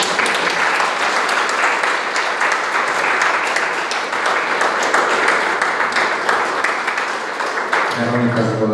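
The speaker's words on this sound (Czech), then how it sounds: "Velký potlesk pro Veroniku Voltrovou." Sustained audience applause at a national biology olympiad final, a thick, even wash of clapping from a large crowd, with a voice coming in over it near the end.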